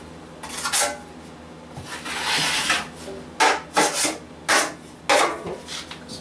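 A 10-inch drywall knife scrapes a skim coat of joint compound over taped drywall seams in a basement bathroom, giving close, rasping strokes in bursts, with several quick passes in a row near the end.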